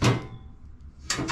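A trap door on a power-lift motorcycle bench lift opens with a short knock at the start, a quiet gap, then a second scraping clunk near the end, close by and fairly loud.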